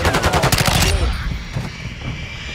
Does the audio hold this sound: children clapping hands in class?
no